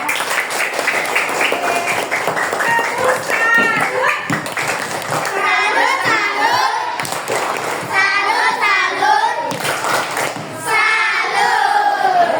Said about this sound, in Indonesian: beri tepuk tangan pada Mima